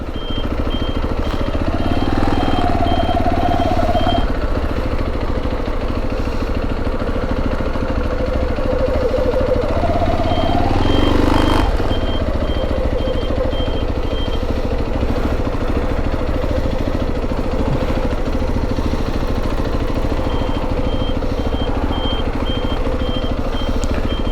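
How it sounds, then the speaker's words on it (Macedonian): A motorcycle engine idles and revs continuously up close as the bike is moved to be re-parked, its steady drone shifting in pitch, with faint beeps in the background. "само да го препаркирам моторот"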